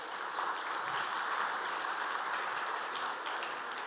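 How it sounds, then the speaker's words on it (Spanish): Audience applause for a panelist at a kiwi industry forum, an even, fairly distant wash of many clapping hands that holds steady for several seconds without voices. "Un aplauso, por favor, para Orieta."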